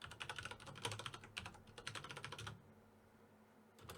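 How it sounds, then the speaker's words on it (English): Rapid clattering keystrokes on a computer keyboard while entering a Minecraft block ID, a dense close burst of taps for about two and a half seconds before quiet room tone with a final tap. "So you can see, I'm typing it,"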